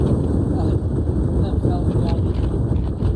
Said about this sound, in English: it's too windy to get map out